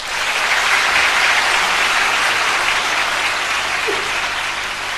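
Audience applause after a speech, a dense, steady wash of many hands clapping that holds at full strength throughout, close and loud with no voices on top.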